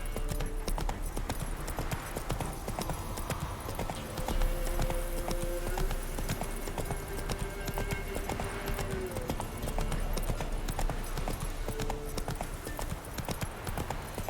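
Roach, a horse in the video game Witcher 3, clip-clops along in a steady, continuous rhythm of hooves, with game music and ambient sound underneath.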